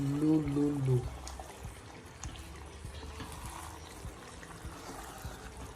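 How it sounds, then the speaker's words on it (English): Water poured into a pot of jollof rice on the stove, a brief splash and trickle early on, followed by a quiet simmering hiss under a speaking voice. "I'm adding water and I'll reduce the fire to low."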